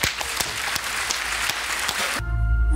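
An audience claps loudly at a hypnosis show in Champagnole, a dense burst of applause with a few sharp close claps that cuts off abruptly into a low musical hum.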